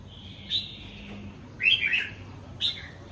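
Caged pet birds chirp in three bright bursts, the middle one a quick cluster of notes, close and clear against a low steady background hum, with no voices.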